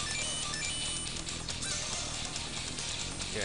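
Goose-like honking birds in the Metal Slug 5 video game, a loud steady cacophony of honks and squawks running the whole time over a dense game soundtrack.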